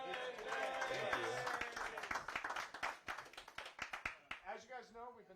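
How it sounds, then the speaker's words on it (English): Audience clapping at a tech meetup, a dense burst of applause that thins into scattered individual claps, with voices talking over it. "keep the clapping going because we want to wish this guy a happy birthday."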